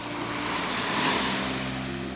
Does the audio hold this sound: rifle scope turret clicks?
no